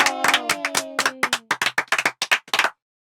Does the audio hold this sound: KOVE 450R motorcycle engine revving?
no